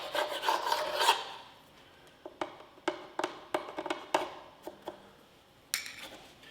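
A scraper rasps over a surface freshly coated with bonding primer, first as a steady rub and then as a series of short, sharp scraping strokes with pauses between them. The sound is close and fairly quiet.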